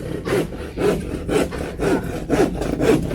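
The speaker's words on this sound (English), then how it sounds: "Now you see old man Tony is now cutting the plyboard for the inside form. We don't have a table saw, so we just do it by hand." Plywood being cut by hand with a handsaw for a concrete form on a bungalow build in the Philippines, six even rasping strokes in a steady rhythm, close and clear with no talk.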